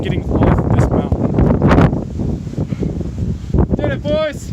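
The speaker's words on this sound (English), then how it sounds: "It's really cold. It's really windy." Strong, cold wind roars across the summit of Mount Fuji, a steady buffeting rush over the microphone with a voice speaking underneath it.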